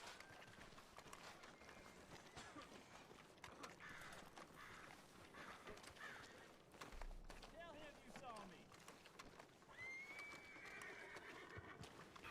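A horse whinnies and snorts amid galloping hoofbeats, with game music and voices talking throughout.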